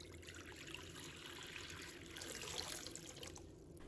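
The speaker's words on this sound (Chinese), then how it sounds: "倒入清水" Clean water running steadily into a bowl holding four eggs, a continuous close trickle and splash with no voices.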